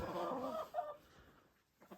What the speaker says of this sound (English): we have a chicken that is trying to get outside